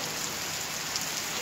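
Heavy rain pours onto a road in Bahawalpur, Pakistan, a dense, steady hiss of falling water that stays loud and even throughout with no voices.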